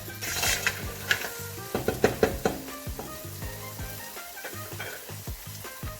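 Dog cockle clams cooking in a pan as part of a seafood linguine, giving a steady sizzle with clinks and light knocks of shells and utensils, close and alone without talk.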